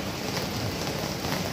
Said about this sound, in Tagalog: Ulan, ay sige na, ulan.